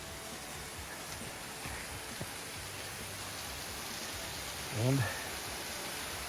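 Steady broadband rush of a waterfall swollen by heavy overnight rain at No Tail Falls, heard from a short distance on an off-trail hike, with a brief voice near the end.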